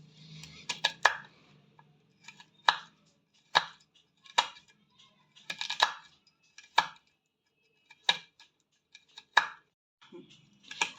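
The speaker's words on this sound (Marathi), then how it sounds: "मी सगळे आता अशाच पद्धतीने हे कुरटुले कापून घेणार आहे, करटुले।" A knife chopping spiny gourd on a board, a series of sharp, distinct close cuts at an uneven rhythm, about a dozen strokes with short quiet gaps between them.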